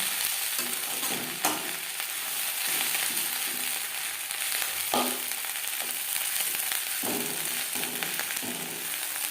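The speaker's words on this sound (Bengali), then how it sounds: "আমি এখানে পেঁয়াজ কুড়ি ভাজা তৈরি করছি" Onion stalks fry in a pan with slit green chillies, giving a steady, close sizzle, broken by repeated scraping and clattering as the mixture is stirred.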